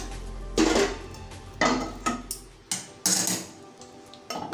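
Cooked tomato mixture for an instant tomato thokku pickle is scooped into a mixer jar, giving several sharp metallic clanks and scrapes of a spoon against the vessel, spaced irregularly with short quiet gaps between.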